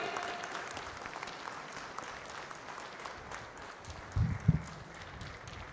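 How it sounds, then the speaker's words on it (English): A conference audience at a nonwoven technology event applauds to welcome the Minister of Textile, a faint, distant, steady wash of clapping with a couple of louder thumps near the end. "let's welcome after Minister of Textile, Government of India, Shri Giriraj Singh ji here with a huge round of applause"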